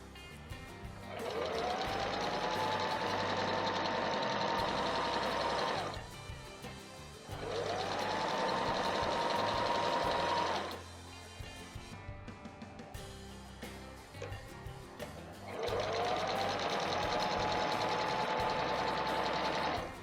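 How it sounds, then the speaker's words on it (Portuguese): A sewing machine stitching a seam in three sustained runs, each a steady close whirring hum that rises in pitch at the start, separated by short pauses with faint handling clicks. "nós vamos costurar, deixando um pouquinho mais para lá."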